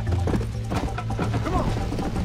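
Horse hooves galloping in the video game Red Dead Redemption during a race, a fast, close clip-clop rhythm with some knocking thuds, under a low background hum.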